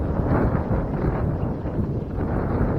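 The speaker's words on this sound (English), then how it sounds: "there's wind here, finally" Wind gusts across the microphone by a lake shore, a heavy, close, low rumbling buffet that surges and dips without a break and with no voices.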